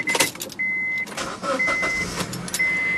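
A 2003 Honda Accord EX-L with a K-series engine and 5-speed starting up, with an electric whine and chime tones, then the engine catching and settling into a steady idle, close by and with no talking.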